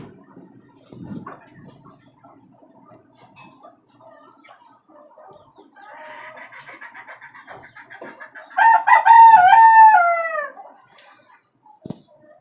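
Domestic village chickens on a farm, about three months old, clucking softly and scratching about, then a rooster crows loudly and close by, with scattered clucks continuing afterward.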